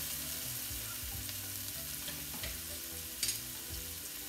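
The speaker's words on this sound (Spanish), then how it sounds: "Movemos para que se acitrone parejito." Onion sizzles as it fries in a pan, stirred with a utensil that scrapes in an irregular rhythm, close and steady with a brief louder clatter near the end.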